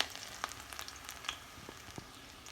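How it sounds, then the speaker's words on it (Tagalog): Chopped garlic sizzles in hot cooking oil in a pan, a soft steady crackle with scattered small pops, quiet and close with no talking. "At dahil mainit na guys yung mantika natin, lagay na natin ang bawang."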